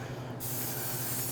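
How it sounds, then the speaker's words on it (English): Non-stick cooking spray hisses onto ribeye steaks in a steakhouse kitchen, a short, loud, continuous spray that starts abruptly and runs to the end. "put a little bit of non-stick spray on them"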